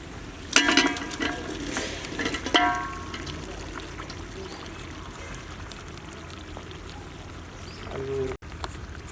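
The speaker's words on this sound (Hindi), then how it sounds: "बीफ शामिल करने के बाद एक बार मिक्स कर लेंगे और 10 से 15 मिनट इसे भूनते हुए पकाएंगे।" Boiled beef is stirred and fried in a pan for a lal mirch beef karahi, giving faint sizzling under a few clattering scrapes of the spoon early on.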